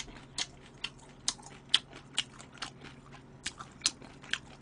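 Smoked duck breast meat is eaten with close, moist chewing and crisp bite clicks in an irregular rhythm, soft and alone.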